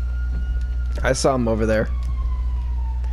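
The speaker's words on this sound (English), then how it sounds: "I hear the siren." A police siren wails steadily in the GTA video game during a pursuit on Mt. Chiliad, a thin sustained tone in the background while someone speaks over it briefly.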